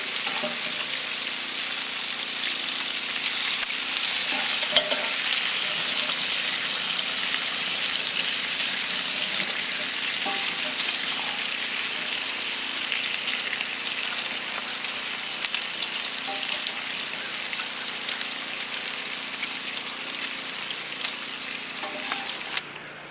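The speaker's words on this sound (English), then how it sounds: "So I fixed me some eggs, and I did toast the bread on the griddle" Eggs fry on a griddle set on a Weber grill, giving a steady, loud, close crackling sizzle that runs unbroken for over twenty seconds with no talking.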